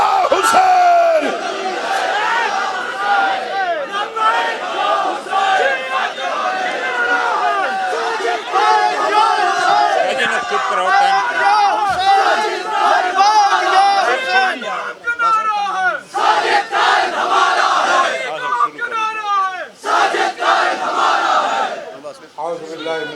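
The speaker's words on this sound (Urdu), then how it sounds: "اپنے بازوؤں کو بلند کیجئے نعرے کے ساتھ لبیک یا حسین" A large crowd at a religious mourning conference in Islamabad chants a slogan in loud unison with raised voices, repeated in surging waves over a continuous roar of the gathering.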